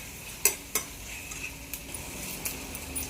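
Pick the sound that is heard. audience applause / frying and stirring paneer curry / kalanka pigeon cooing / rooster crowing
frying and stirring paneer curry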